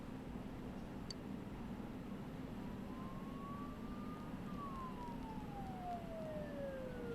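Emergency sirens in the fogbound town of Inaba in the video game Persona 4 Golden, a wailing tone that rises and then sweeps slowly down over a constant low hum, sounding moderately distant.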